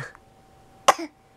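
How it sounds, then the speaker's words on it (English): A single short, sharp cough from a child close by, followed by a brief throaty rasp in otherwise quiet surroundings. "Why are you coughing like that?"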